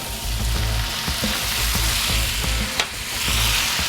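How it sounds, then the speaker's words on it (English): White wine hits a hot pan with cooked chicken and spices, giving a loud, steady sizzle and crackle with occasional stirring clicks and a brief sharp spit. "Let that sizzle for a minute."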